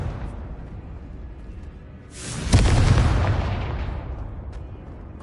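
A Confringo blasting spell going off in Hogwarts Legacy, a single loud booming explosion that swells suddenly and rolls away slowly over a steady ambient background.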